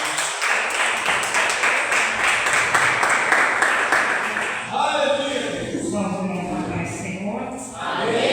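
A church congregation at a Wednesday service claps together for the Lord, a loud sustained burst of many hands that thins out after about five seconds, with voices rising over the fading applause.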